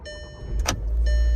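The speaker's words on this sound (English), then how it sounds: "That is the smoothest this car's ever started." A 2010 Volkswagen CC engine cranks and catches with a short burst, then settles into a steady idle hum with a faint electrical whine, close and fairly loud.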